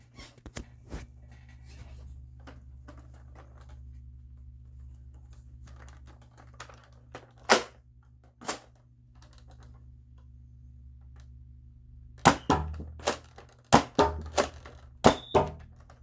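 A Nerf Tri-Break toy blaster fires several times at close range: sharp isolated pops with a mechanical snap, a lone shot and a pair early, then a quick cluster of bursts near the end over a low hum.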